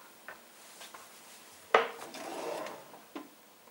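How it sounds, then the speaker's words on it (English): Pots and pans handled in a self-catering holiday kitchen in Morecambe give a few scattered knocks and one sharp metallic clang followed by a short scraping rattle, quiet and close. "Lots of pots and pans."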